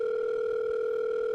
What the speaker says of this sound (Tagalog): You're gonna hear a ringtone.